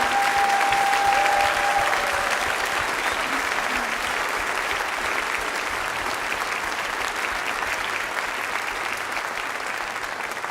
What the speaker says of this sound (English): can you give one more round of applause for the middle schoolers who did so well?